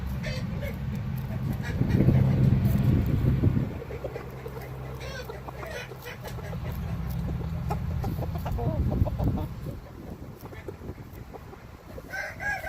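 A rooster crows loudly nearby, with hens clucking around it and a person speaking over the birds.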